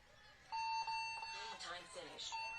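A paintball match's end-of-game buzzer sounds as a tonal electronic beep under excited talk and crowd noise, with a second short beep near the end.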